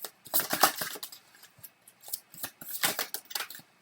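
Tarot cards are shuffled and drawn by hand, giving a quick run of soft, crisp papery slides and flicks. The sound is close but quiet, comes in irregular bursts, and no one speaks.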